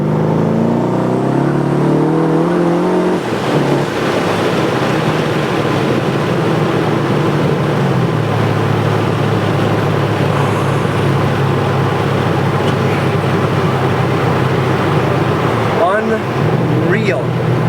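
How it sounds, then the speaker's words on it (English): Corvette C6 Z06 twin-turbo pulling hard in third gear from about 40 mph, a loud, steady engine roar that climbs in pitch and holds full throttle for the whole stretch, with road noise underneath and a brief shift-like dip near the end. "we're gonna do a roll on here in third gear, so as we get to about 40, I'm gonna hit it here"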